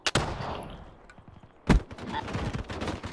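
Gunfire in Black Ops 3 aimed at an incoming UAV overhead, with a sharp burst near the start and another loud crack midway, followed by a rattling stretch of shots and game sounds.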